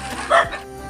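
A dog gives a single short bark at a Philippine home, fairly close and brief, against quiet background noise.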